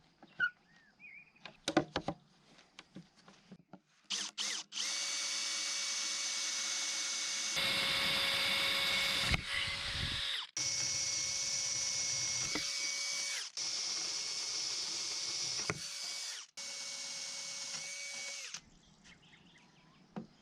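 Power drill cutting a circle during an off-grid barn conversion in central Portugal, running in several long sustained bursts with a steady whine, close and loud, after a few brief clicks and handling sounds.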